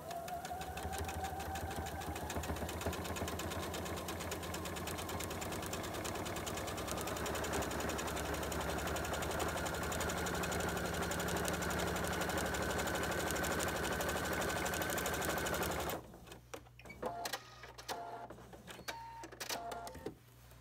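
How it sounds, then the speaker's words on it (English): A sewing machine quilts through soft and stable foam interfacing, running in a continuous fast whirring stitch for most of the stretch, then stopping and giving way to a quieter low hum with faint clicks. "And now that is ready to take to my sewing machine."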